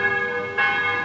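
Church bells ring in a sustained, shimmering tone with a fresh strike partway through, heard clearly on their own.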